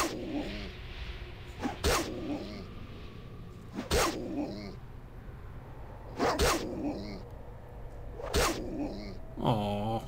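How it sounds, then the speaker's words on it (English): Growling war dog in the Baldur's Gate 2 computer role-playing game, heard as a recurring snarl or bark about every two seconds, each with a sharp onset, close and moderately loud over a steady background hum. "a growling war dog leaps out of the shadows"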